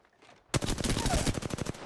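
Rapid bursts of automatic gunfire in a shooter video game crack out loud and close after a brief quiet start, with a dense run of repeated shots lasting over a second.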